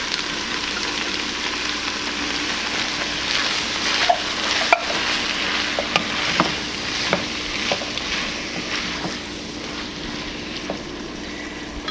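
Canned crushed tomatoes sizzle and bubble in a hot pan, with a steady frying hiss broken by scattered clicks and scrapes of stirring.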